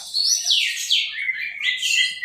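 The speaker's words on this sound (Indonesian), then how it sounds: "pakai kacer bahan ombyok dari pasar burung pramuka" An Oriental magpie-robin (kacer), a young bird bought at the Pramuka bird market, sings close and clear, a continuous run of bright whistled phrases with sweeping rises and falls.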